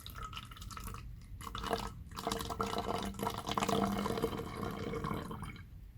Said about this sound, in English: sometimes it's a little bit tricky pouring water inside of a water bottle